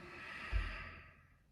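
A single deep exhale during a yoga session for basketball players, a soft breathy rush that swells and fades over about a second, close and fairly quiet.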